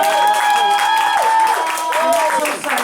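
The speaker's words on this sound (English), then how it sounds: "Can you give it a really big clap?" Audience clapping at a programme's closing honours, steady dense applause filling the whole moment with whoops and cheers rising through it, fairly close and loud.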